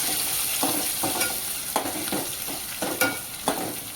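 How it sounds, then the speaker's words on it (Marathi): Chopped coriander leaves sautéing in hot oil for a Vidarbha-style patwadi curry, heard as a constant close sizzle broken by rhythmic spatula strokes and scrapes against the pan, with no one speaking. "कोथिंबीर नेहमी तेलामध्ये अशी परतून घ्यायची"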